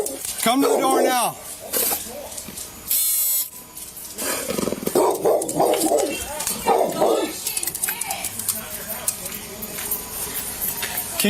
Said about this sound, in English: A woman finally came to the door, holding back a bunch of barking dogs.